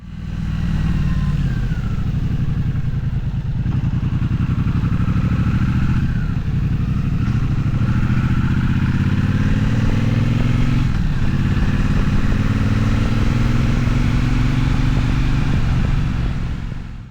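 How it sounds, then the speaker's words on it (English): A 2026 Triumph Bonneville Speedmaster's twin engine rumbles steadily and loudly through twin chrome exhausts, its deep exhaust note swelling and easing with the revs, with no voices. "a hugely satisfying exhaust note from those twin chrome exhausts"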